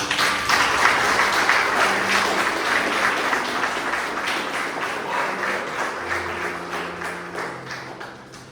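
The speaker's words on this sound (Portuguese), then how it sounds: "Você pode aplaudir Jesus." A congregation at a church service applauds in a sustained, dense wash of clapping that stays fairly loud throughout, with faint tones and murmurs underneath as it slowly tapers.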